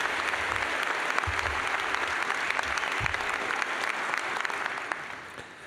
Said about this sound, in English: Another round of applause for Dr. Chrisman.